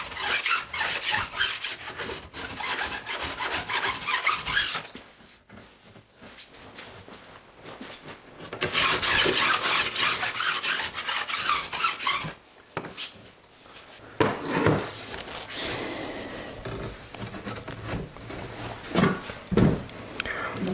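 Ski sidewalls are filed during tuning, with long steady rasping strokes of a file scraping along the ski edge in repeated passes, close and fairly loud, broken by short pauses and lighter scraping.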